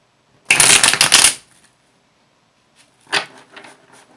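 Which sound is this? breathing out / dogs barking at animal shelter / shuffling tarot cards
shuffling tarot cards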